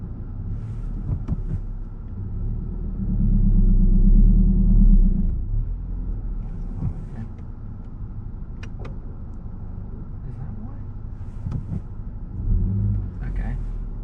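A manual MK7 VW Golf R with a newly replaced clutch sets off and drives, its engine a low steady rumble that swells briefly under acceleration, with someone talking over it.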